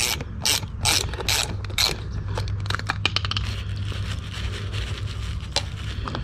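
A hand ratchet works loose the small air fittings from the air dryer of a 2007 Freightliner Columbia truck, with a few sharp clicks followed by a long run of rapid, close ratcheting.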